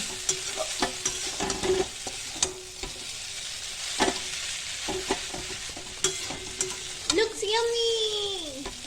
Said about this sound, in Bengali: ফ্রাই হয়ে গেছে, আর ফাইনালি চাউমিন দেওয়া হচ্ছে